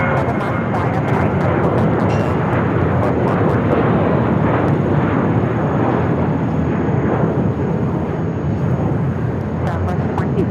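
A Southwest jet roars down runway 7 left at Phoenix Sky Harbor on takeoff, a loud sustained broadband engine rumble that holds steady throughout, with a faint radio voice briefly underneath.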